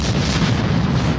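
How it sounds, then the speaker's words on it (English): A sonic boom from a supersonic plane arrives as one loud, sustained broadband blast, a deep rumbling bang that fills the whole moment without any talking. "The sonic boom follows the plane around for as long as it travels faster than sound."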